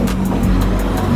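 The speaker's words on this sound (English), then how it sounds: "The car just passed by." A car passes close by with a loud, steady engine roar that fills the whole brief moment, without any voices.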